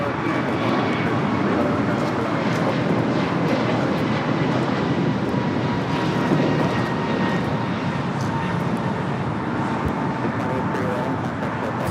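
A Boeing 747-8 Intercontinental arrives at LAX from Frankfurt with a continuous, even jet roar at fairly close range, some faint traffic hum and speech-like sound underneath.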